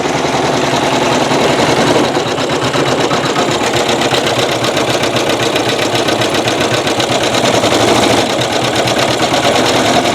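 An embroidery machine stitching lace in metallic thread with a size 14 topstitch needle runs steadily and loudly for the whole stretch, its fast, even mechanical chatter never pausing.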